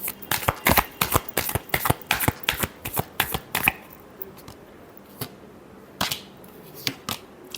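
Tarot cards shuffled by hand in a rapid run of crisp riffling snaps, then a few slower, sparser flicks and taps, close and fairly quiet with no talk.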